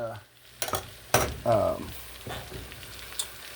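Peppers sizzle in a thickening savory sauce in a pan while a spoon clacks and scrapes in a few sharp, close strokes, with a soft steady simmer beneath.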